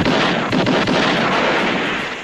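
A revolver gunshot from a spaghetti western booms loudly with a long rolling echo, a dense blast that fills the whole moment with no talk.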